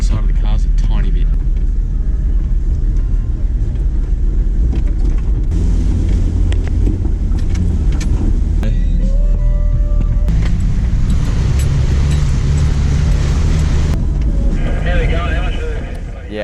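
4WD vehicles, including a Patrol, Landcruiser, Hilux and Prado, drive through the shallow Wanangata River in the high country, with a loud continuous engine rumble, water wash and wind buffeting throughout.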